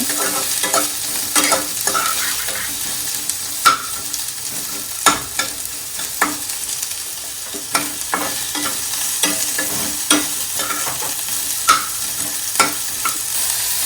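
Onion and coconut frying in a pan for a coconut tomato chutney, a steady close sizzle broken by repeated scraping knocks of a spoon stirring against the pan every second or two, with no talk.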